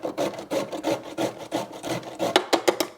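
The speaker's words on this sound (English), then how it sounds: "Next we'll try the small grater." A carrot scraped across the small grater of a vegetable-cutter, producing a steady run of close, rhythmic rasping strokes that quicken into sharper, louder scrapes near the end.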